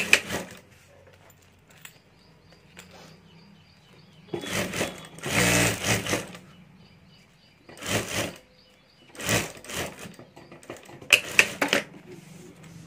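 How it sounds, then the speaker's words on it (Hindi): A sewing machine stitches a lining onto a handmade ladies' wallet, running in several short bursts of a few seconds each with quiet pauses between, close and fairly loud. "तो यहाँ से मैं सिलाई कर देता हूँ।"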